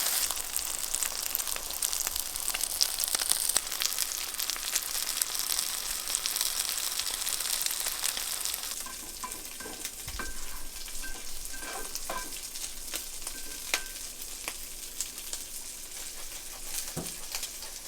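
Cheese crisps on a hot surface for beef birria quesabirria, a close, continuous hissing sizzle with occasional scraping and tapping sounds partway through.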